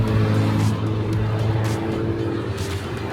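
A stock R53 Mini Cooper accelerating on a race track: a loud, close engine drone holding a steady pitch throughout, with a slight change in tone partway through as the car pulls on.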